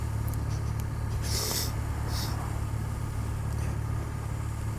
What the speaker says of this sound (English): The burble of the engine's really quite nice, to be honest.